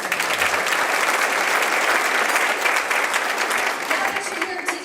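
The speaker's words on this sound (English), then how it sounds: "So big round of applause for that." Steady, dense applause from an audience at a fundraising celebration, loud and sustained for several seconds with a slight tapering near the end.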